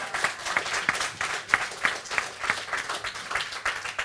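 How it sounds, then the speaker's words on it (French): Applause from a theatre audience at a live radio show, a moderate crowd clapping with audible individual hand claps in a loose, steady patter throughout. "vous n'êtes pas obligé de l'applaudir tout le temps"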